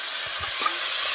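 Potatoes fry in oil in a pan, a brief, steady bright sizzle with a few soft low stirring bumps, close and alone without talk.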